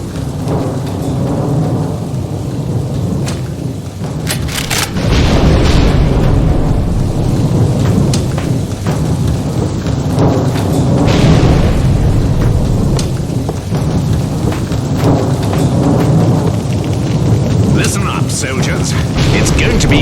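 Steady rain pours and rolls of thunder rumble through a World War setting in the horror game NecroVisioN, with a heavy crack and boom about five seconds in and a dense, continuous downpour throughout.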